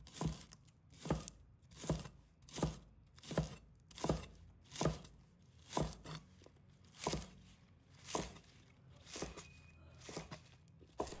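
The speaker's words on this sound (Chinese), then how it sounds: "再准备1把小葱，把它切成小段" Knife chopping a bunch of green onions into short pieces on a cutting board, steady evenly spaced thuds at about one every second, close and clear with no talking.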